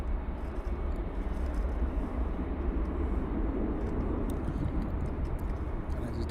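An airplane departing Luton Airport early in the morning gives a steady, loud, broad roar that holds unbroken throughout, with no voices.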